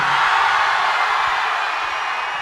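A packed audience at an event for a Tamil military film, cheering and whooping in a continuous dense roar of crowd noise that fades slightly over its short span, with no one talking above it.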